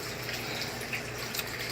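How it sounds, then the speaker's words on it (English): Water flowing steadily from a tap as a hand is rinsed off after coral dipping, a brief, even gushing rush with no voices. "So I'm just rinsing my hand off right now"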